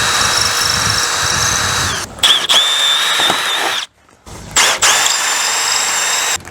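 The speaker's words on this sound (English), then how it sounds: "We're going to take a 3/16 drill bit, and by we I mean Cameron, is going to drill the motor off this end, drill those 3 rivets out." Power drill with a 3/16 bit drilling out the rivets holding an awning motor, a high whining buzz in several bursts broken by short pauses and a brief silence, close and loud.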